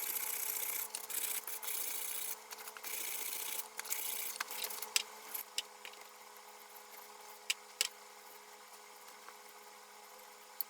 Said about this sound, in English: A wire brush is also used to help with stubborn rust stains.